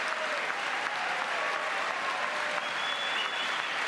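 A large audience claps steadily and evenly throughout, a dense wash of applause at a moderate distance with no pauses.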